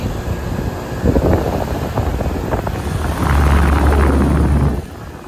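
Lennox Elite HVAC condenser unit running outdoors among older condensers, a steady fan whoosh and low hum that swells louder midway with a deep drone, then drops away near the end.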